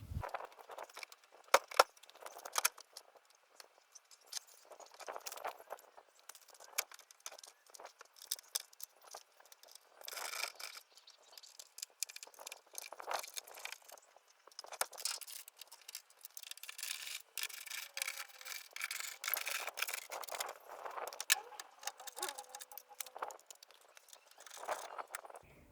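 Metal tools scrape and rattle on and off while the front wing is removed from an Opel Manta B during a rolling restoration, with irregular clanks and rubbing scrapes close by and no talk.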